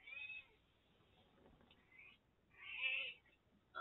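A tabby cat meows at close range, with two drawn-out, insistent meows, one at the start and a louder one near the end, over a quiet indoor background.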